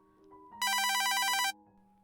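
A landline telephone rings once in a bright electronic burst of just under a second, clear and close against a quiet room hum.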